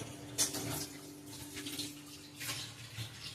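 Water left from rinsing a mixer grinder jar poured into a pan of ground masala in a home kitchen, a soft close splashing trickle with small sloshes over a few seconds.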